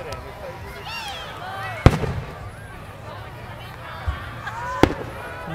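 Two sharp fireworks bangs, a few seconds apart, crack out over a noisy outdoor crowd murmur in Cupertino, California, with a fainter pop between them.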